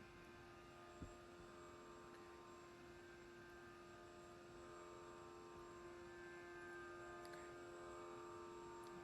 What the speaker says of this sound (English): I'm going to turn on just a sound. It's a drone sound.